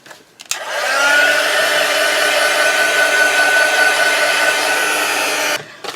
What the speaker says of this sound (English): I'm just going to pop on my heat gun and just give it a good dry off.